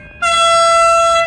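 A V/Line VL23 locomotive sounds its horn for level crossings with one loud, sustained chord blast that cuts in sharply and holds steady to the end. It is close and alone, with no voices.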